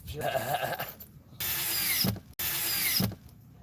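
A power drill drives screws into a wood cabinet during a Ram ProMaster City van kitchen build, with two long loud whirring bursts separated by short pauses, preceded by quieter workshop noise.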